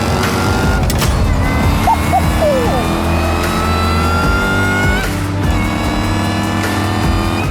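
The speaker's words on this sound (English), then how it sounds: "just get it in a low gear, floor it, and let those pipes sing" A manual-converted Jaguar engine revs hard in a low gear, its exhaust pipes roaring loudly and continuously with steady high-rpm drone and rising pitch throughout.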